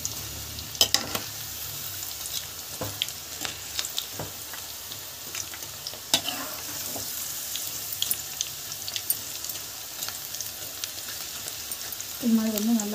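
Pakoda batter fries in hot oil with a steady, close hiss and scattered crackles and pops, some stirring clicks, and a brief voice near the end.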